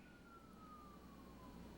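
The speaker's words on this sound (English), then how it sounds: "You can hear the police siren in the I'm background." A police siren sounds faintly in the distance, its steady wail slowly falling in pitch under a constant low hum of outdoor background noise.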